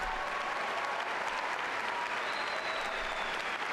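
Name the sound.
audience applause for mothers at commencement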